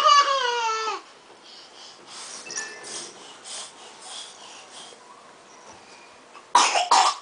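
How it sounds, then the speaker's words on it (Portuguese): A small child coughs during play with a grandparent, starting with a strained, whiny vocal burst, then quiet faint rustling, and ending with a short cluster of sharp, close coughs. "Ih, olha a tosse."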